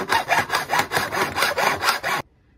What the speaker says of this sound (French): Je prends ma scie, donc avec une scie à métaux